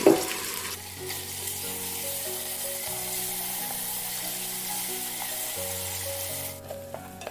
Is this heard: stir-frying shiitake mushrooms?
yes